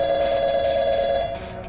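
A telephone in the game Portal 2 rings with a steady electronic trill that carries on for nearly two seconds, clear and alone, fading slightly at the end.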